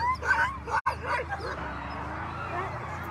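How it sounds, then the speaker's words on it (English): A sled dog team at a Willow, Alaska race yips and whimpers up close in short overlapping bursts, under a person talking. "This is the lightest coated dog team I think we've had out here today"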